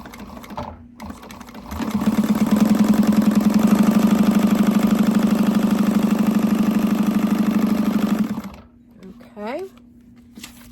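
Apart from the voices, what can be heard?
sewing machine stitching a bag pocket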